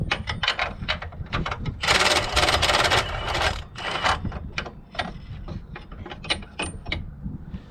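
An impact wrench drives a chrome socket through non-impact-rated extensions while narrowing up a farm planter, chattering in short clattering bursts with one longer hammering run in the middle, alone and close.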